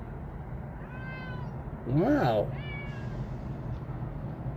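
Stray cat meowing close by, a few drawn-out calls with one louder cry in the middle, while someone talks softly to it.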